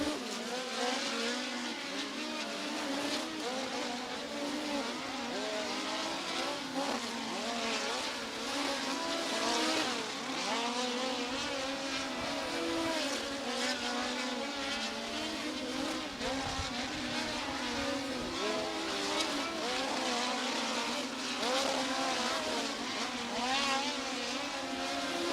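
USAC National Midget race cars lap a dirt track during hot laps, their engines droning continuously and fairly distantly, pitch rising and falling as the cars circle, with no pauses.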